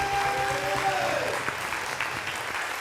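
An audience applauds for Eunice Zunon, steady clapping from a crowd lasting throughout, with a brief tone and some talk faintly underneath at the start.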